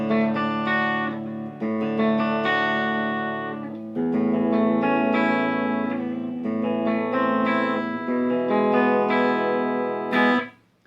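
Clean electric guitar through a '65 Deluxe Reverb tube amp with no effects: chords and single notes ring out bright and articulate with a little natural reverb, playing continuously and closely miked, ending on a final strum.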